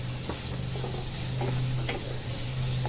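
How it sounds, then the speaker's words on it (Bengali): Garlic paste goes into a pan of frying chopped onions, with a steady close sizzle and occasional light stirring scrapes throughout and no talking. "এবার দিয়ে দিচ্ছি রসুন বাটা"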